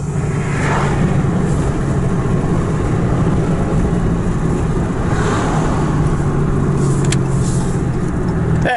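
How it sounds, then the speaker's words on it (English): Dodge Ram 3500 Cummins diesel pickup towing a John Deere backhoe on the road, its engine droning loud and steady as it downshifts, with road and wind noise inside the cab. "Love listening to this thing downshift."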